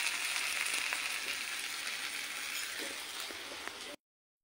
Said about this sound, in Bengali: তোমরা যত ভালো করে মশলাটা কষাবে তোমাদের তরকারিটা তত টেস্ট হবে